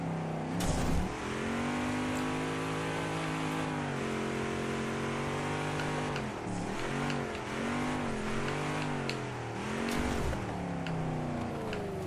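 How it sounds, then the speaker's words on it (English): Off-road vehicle engine in the racing game Baja: Edge of Control HD, a loud, continuous buzzing drone that rises and falls in pitch with revving and shifting throughout, alone with no talk. "when you're driving from the nose, the engine sound is a lot better"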